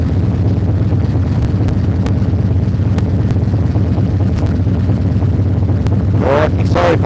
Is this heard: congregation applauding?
no